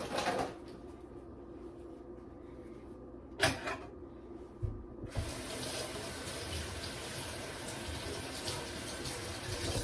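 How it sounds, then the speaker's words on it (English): A kitchen tap runs while a knife is rinsed under it, a faint trickle with a clunk before the water gushes strongly and steadily, close and alone. "I'm just rinsing off my knife"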